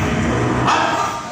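A person's voice imitates a dog barking, a single loud, rough woof-like burst up close with a noisy room behind it.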